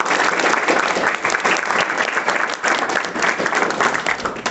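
An audience at a college placement talks session breaks into loud, sustained applause, dense clapping that holds steady throughout with no voices over it.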